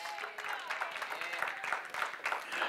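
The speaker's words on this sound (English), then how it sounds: "Give God a hand clap of praise." A church congregation claps hands in praise, a dense, steady patter of many hands at moderate distance, with voices mixed faintly underneath.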